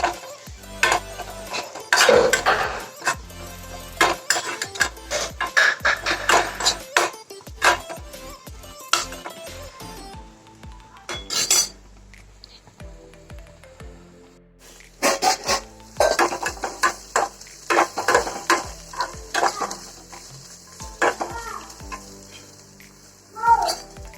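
Turmeric is stirred into a sizzling mixture in a pan while cooking liver fry, with frying sizzle under repeated spoon scrapes and metallic clinks against the pan in uneven bursts, close and fairly loud.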